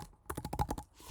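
Quick burst of typing on a computer keyboard, about eight crisp key clicks in a tight run, close and clear, with no voices.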